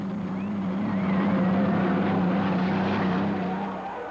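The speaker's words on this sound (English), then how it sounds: "the whoosh or the whining of these turbine engines" Turbine hydroplane race boats at the 1985 Tri-Cities heat, Chip Hanauer and Steve Reynolds in the 7-Eleven running side by side, whine past with a loud steady high-pitched turbine drone and rushing whoosh that swells and then eases slightly.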